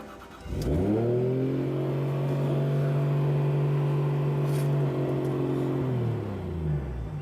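A drift car, which title details suggest is a BMW E36, revving up hard and holding a steady high engine tone for several seconds before easing off, loud and close with a strong harmonic whine.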